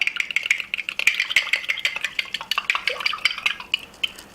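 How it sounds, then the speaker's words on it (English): An egg is stirred into a cauliflower pizza crust mix seasoned with garlic and salt. A utensil clinks and scrapes rapidly and rhythmically against the bowl, close up and steady, without speech. "Just 1 egg, and I'm going to stir that in."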